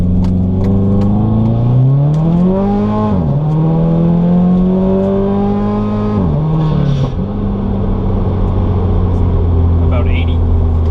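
A car with a CNT exhaust and no silencer pulls hard at full throttle on a road in Juneau, Alaska: a loud, raw engine drone climbs in pitch through several gears, dropping briefly at each shift.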